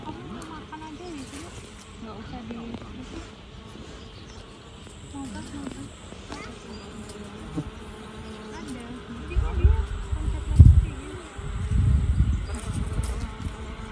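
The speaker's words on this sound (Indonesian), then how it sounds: "Duh lebah, jangan ganggu aku panen ya." Bee buzzing around blueberry bushes during a harvest in a field in Germany, a faint hum at first that swells louder and closer toward the end, with rustling of leaves.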